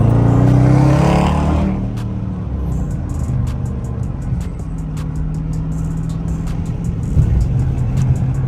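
A Corvette C8 sports car's engine roars loudly at first, then drops to a steady low rumble with faint clicks, as if idling or driving off nearby.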